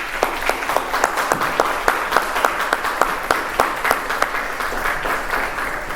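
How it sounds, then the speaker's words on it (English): A lecture-event audience gives a sustained round of applause to distinguished guests, with dense, even clapping from many hands that stays loud and close across the whole stretch. "If we could please, a round of applause to these distinguished guests."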